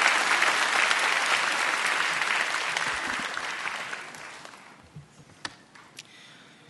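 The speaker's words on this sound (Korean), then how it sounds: "뜨겁게 박수로 격려해 주시면 감사하겠습니다." A church congregation applauds warmly for a deacon about to give a testimony, a dense wash of many hands that swells loud then gradually fades out, leaving a few scattered late claps.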